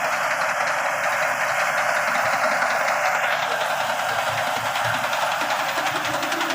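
The diesel engine of a Big 37 combine harvesting rice runs with a steady mechanical drone and knocking rumble, a continuous hiss and hum over low thudding, no voices.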